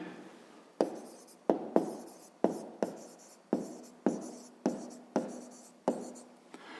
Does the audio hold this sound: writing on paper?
yes